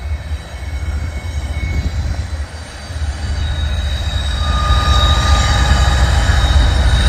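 A freight train rolls past at a junction where it turns west, its wheels giving off sustained high-pitched squeals above a loud, steady rumble that grows toward the end, with no voices.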